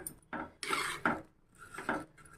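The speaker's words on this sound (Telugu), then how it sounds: "చాట్ మసాలా వేసి మంచిగా కలపండి" Chaat masala is stirred into a pani puri filling, with a few close scraping and clinking strokes of a spoon against a bowl in short uneven bursts.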